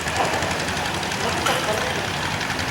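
A truck hauls a John Deere tractor on a lowboy trailer in a Memorial Weekend parade in Ellenburg Center. A steady engine rumble with faint knocking runs throughout, and voices talk over it.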